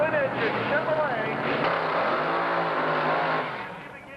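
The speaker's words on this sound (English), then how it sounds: "660 cubic inches of twin-engine Chevrolet." A 660 cubic inch twin-engine Chevrolet nostalgia drag racer comes to life at Firebird International Racing, its engines roaring with rising and falling pitch under an announcer's voice, then fading slightly at the end.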